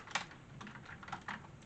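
Light, quick taps on a small attachable computer keyboard, a short run of uneven clicks heard close up at low volume, with no talk.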